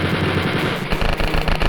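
Rapid continuous bursts come from a chain gun in the Wolfenstein mod Wolf Extra 3. The fire is loud, close and relentless, and the shots tighten into a faster, sharper rhythm toward the end. No voices are heard.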